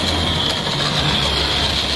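A toy Thomas and Friends train runs along after a push, giving a steady loud whirring, rattling motor hum with a constant high whine, close by and without voices.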